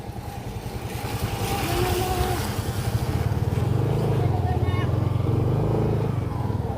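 A motorcycle engine drones loudly and steadily nearby at a landslide site, its pitch shifting as it revs and labors, with voices faintly under the noise.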